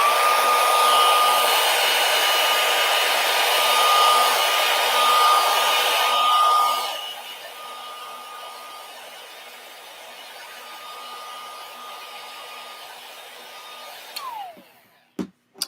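A handheld heat tool blows hot air over a craft transfer sheet with a steady loud whirring roar for about seven seconds, then drops to a quieter hum before clicking off near the end.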